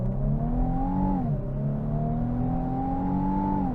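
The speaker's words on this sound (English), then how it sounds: "That is a fun sounding engine." The twin-turbo V6 of a 2025 Infiniti QX80 SUV accelerates hard from a brake-torque launch, its pitch climbing, dipping briefly at a gear change, then climbing again in a steady, loud roar.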